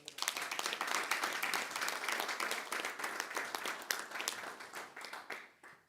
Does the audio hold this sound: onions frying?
no